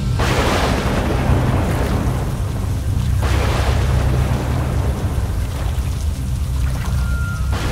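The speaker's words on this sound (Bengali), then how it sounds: "এই প্রচণ্ড বৃষ্টি যেন সমস্ত রাস্তাঘাটকে গ্রাস করে নিয়েছে" Heavy rain pours down in a storm, a loud continuous roar with surging gusts and rumbling swells, dense and unbroken, with no voices over it.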